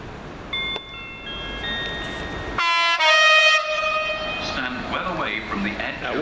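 Class 66 diesel locomotive passing through Southampton Airport Parkway station, with a loud two-tone horn blast midway, then rising engine and rail rumble as it runs through close by.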